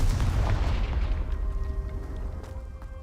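A deep, rumbling blast from the Confringo spell in the game Hogwarts Legacy, loud at the start and tailing off into a fading boom with faint ringing tones.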